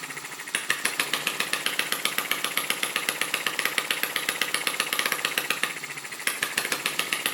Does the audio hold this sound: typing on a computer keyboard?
no